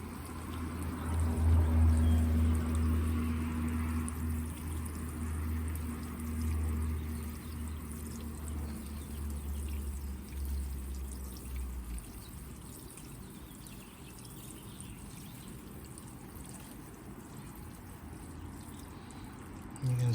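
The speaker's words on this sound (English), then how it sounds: "I'm still going to water the plant thoroughly." Water poured onto a potted Morning Cloud Chitalpa bonsai gives a soft, steady splash and trickle that runs for about twelve seconds, then eases into a quieter wash of outdoor rain and background noise.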